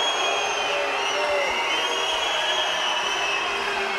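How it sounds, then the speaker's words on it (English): Dense, steady crowd noise fills an arena during a men's team sabre final at the 2019 World Fencing Championships in Budapest, a sustained booing roar that stays constant and loud throughout. "Crowd's booing because the referees are checking video"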